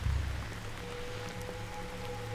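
Steady rain falls on a remote survival campsite, a constant soft wash with faint tones drifting through it.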